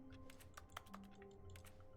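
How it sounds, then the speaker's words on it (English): Keyboard typing in the video game The Stanley Parable Ultra Deluxe, a quick run of soft, close key clicks in an irregular rhythm over a quiet hum, no voices. "That makes keyboard sound."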